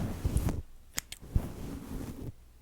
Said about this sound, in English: Let's use the scissors.